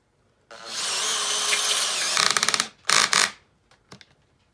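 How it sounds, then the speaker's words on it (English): A Makita XPH07 cordless drill drives a screw with Makita Impact X bits at clutch setting 21, whirring steadily for about two seconds before ratcheting clicks as the clutch slips, then two short bursts and scattered faint clicks. "So let's drive it in."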